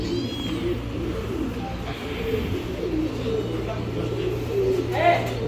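Pigeons coo softly at a bird and animal market in Medina, mixed into steady crowd chatter and background hum.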